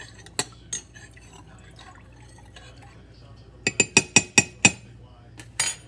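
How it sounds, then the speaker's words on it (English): Glass dishes of fruit cocktail jello chink as a spoon stirs and taps against them, a few isolated clinks early and then a quick burst of sharp taps, close and fairly quiet. "Stir this one more time."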